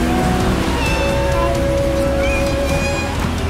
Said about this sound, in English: Yes, that's a cat.